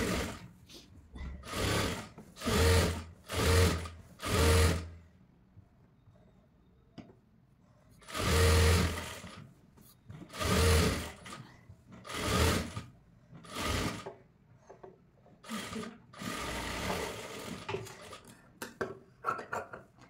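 A sewing machine stitches the side seams of a 1-meter cloth frills frock, running in repeated loud bursts of rapid mechanical clatter separated by short pauses as the fabric is adjusted.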